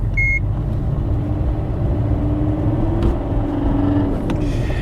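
A car engine, on a road trip through south-west France between Bordeaux and Bayonne, drones steadily at higher revs with a tinny, strained tone. A continuous rumble runs throughout, with a brief electronic beep near the start.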